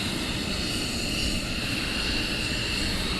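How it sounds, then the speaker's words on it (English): A military jet taxis at RAF Lakenheath, its engine producing a steady, loud whine and roar that holds constant throughout without any other sounds. "while we await his colleague who's taxiing down towards us"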